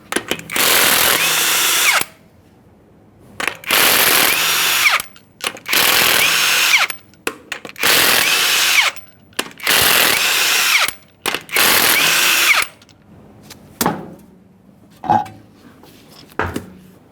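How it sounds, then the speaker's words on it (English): Impact wrench or drill loosening the six 21mm lug nuts from a 2015-2020 Ford F-150 front wheel, loud nearby bursts of whirring repeated about seven times with short pauses, then a few clanks of nuts and metal. "we're going to remove the wheel by removing all 6 of our 21mm lug nuts"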